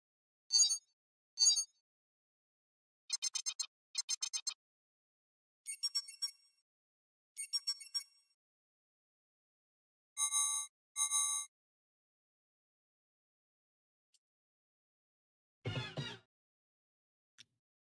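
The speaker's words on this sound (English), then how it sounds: "I just can't choose a ringtone" A phone ringtone played as a guessing-game sound, a series of paired electronic chime and trill bursts at rising pitches separated by silence, ending with a lower buzzing tone, clear and alone.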